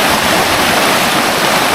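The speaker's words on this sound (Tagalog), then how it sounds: "Lakas talaga ng tubig, rumaragasa talaga" Strong river water rushes loudly and continuously close by, a dense broadband roar with no other sounds.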